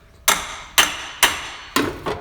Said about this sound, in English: get a hammer, and preferably a brass hammer, but this will work. Basically, smack this a couple times.